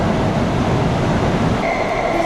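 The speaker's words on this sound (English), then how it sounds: "This train is for YVR Airport." A SkyTrain car rolling toward YVR Airport, a steady close rumble of wheels on rail with a faint high squeal near the end and no talk.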